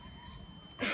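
A person coughs once, loud and close, a short harsh burst after a stretch of quiet background noise.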